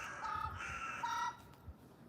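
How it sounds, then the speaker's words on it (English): A bird repeatedly sounds a shrill alarm call, a few sharp calls close together and then a fainter one, over a steady outdoor background hiss. "There's another bird, and it's sounding the alarm like, it's sounding like some type of alarm."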